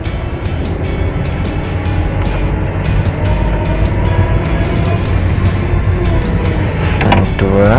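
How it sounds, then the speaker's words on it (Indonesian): A manual car pulling away after the clutch is released during a driving lesson in a narrow alley, with a loud, steady engine drone heard from inside the cabin that lifts slightly near the end. "aman, lepas kopling, gas lagi."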